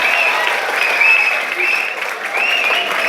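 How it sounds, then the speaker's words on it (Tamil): Steady applause from a large audience at a Tamil debate forum (pattimandram) in Jaffna, a dense sustained clapping that holds at an even level throughout with no voices standing out. "திருமணத்திற்கு முன்பாக இருக்கக்கூடிய இளைஞர்கள் பூரா கைதட்டுறாங்க"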